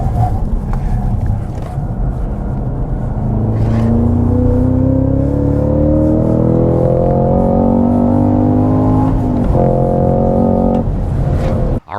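A 2022 Cadillac CT5-V Blackwing with a six-speed manual roars on a race track, its engine note climbing steadily through a long pull, dropping at a shift, then rising again, close and loud throughout.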